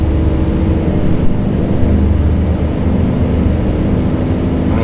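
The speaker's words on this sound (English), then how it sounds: "Oh, is there an airplane coming over here?" An airplane passing overhead in the American Truck Simulator game, a loud, steady engine drone with a broad rumbling roar that stays constant throughout, mixed with the hum of the truck.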